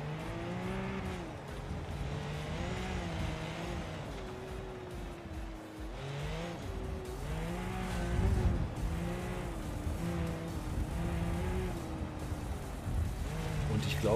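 A car in the BeamNG.drive video game, driving on a jungle trip in automatic mode, revs up and down in repeated wavering engine surges with occasional tire noise, loud and continuous across the whole stretch.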